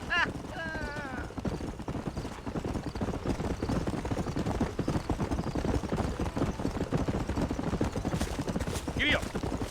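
Horse hooves gallop steadily in Red Dead Redemption, a dense rhythmic clatter running the whole stretch, with a voice speaking over the start and a brief whinny-like cry near the end.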